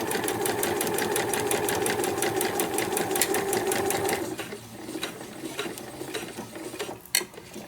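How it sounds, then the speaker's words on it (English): Sewing machine stitching a sewing roll, a fast rhythmic rattling of the needle for about four seconds, then stopping and leaving quieter handling clicks and a sharp knock near the end. "We'll get our little tool out to help guide the top through our machine."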